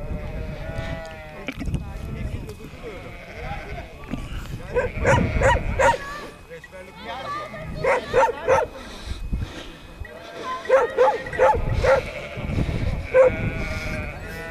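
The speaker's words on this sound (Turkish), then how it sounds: "Koyunların güvenliğini sağlayan köpekler." Sheepdogs guarding a flock of sheep on a trek bark in repeated bursts, some near and loud, amid livestock calls, with people talking underneath at times.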